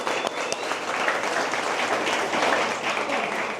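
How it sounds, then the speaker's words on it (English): An audience applauds steadily, a dense continuous wash of many hands clapping at close range. "so how about another round of applause for them?"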